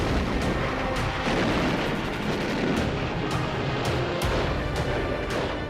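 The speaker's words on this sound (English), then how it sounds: "Then, the big guns of the fleet open up." Heavy naval guns of a wartime fleet bombarding an island in the Pacific, a dense continuous rumble of artillery with repeated sharp blasts cutting through, loud and unbroken, with no voices.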